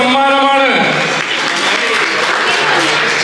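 An audience at an Onam celebration claps for a first-prize winner, dense continuous applause that starts as a spoken announcement fades and holds steady to the end.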